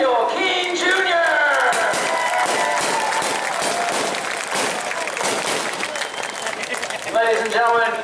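A grandstand crowd at the Clyde Hart Memorial race at New Smyrna on July 4 applauds the drivers, with steady, dense clapping and cheering that carries on loudly for several seconds over a public-address voice.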